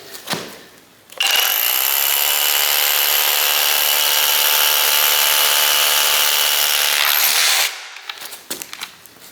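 An SDS rotary hammer drill, a Flex with a 5/8 inch bit on a 5 amp hour battery, bores into concrete block, a loud steady hammering whine that runs unbroken for about six seconds and then stops.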